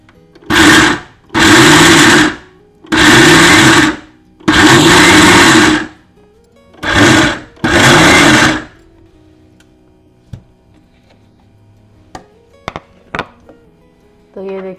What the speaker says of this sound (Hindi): बिल्कुल कोर्सली पीसा गया है, पल्स मोड में हमने पीसा है